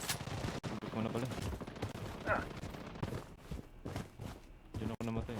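Gunfire in the BloodStrike video game, bursts of rapid shots and scattered single cracks amid footsteps, with voices talking over the action.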